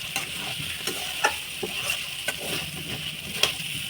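Coriander powder and two spoons of turmeric powder get stirred in a hot frying pan, making a steady bright sizzle with soft scraping stirs every half second or so, close and without speech.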